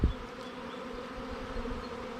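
Honeybees hum in a steady close drone above an opened colony during a Varroa test, with a brief knock at the start and no voices.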